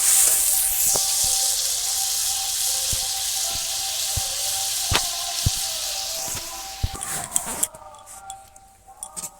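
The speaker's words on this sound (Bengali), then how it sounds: "এবার আমি এখানে জল দিয়ে দেবো" Water poured into a pan of frying cauliflower and potatoes in a village kitchen, a steady loud sizzle with hissing, scattered clicks and clinks that fades into quieter bubbling and clatter near the end.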